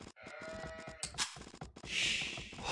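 Sheep bleating in the Age of Empires II video game, several wavering bleats in quick succession over a busy background of game sounds, followed by a hissing wash of noise.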